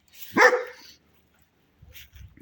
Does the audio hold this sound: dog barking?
yes